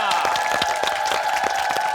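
An audience on a Korean entertainment show breaks into quick applause, individual claps standing out crisply over a sustained tone and a host's voice.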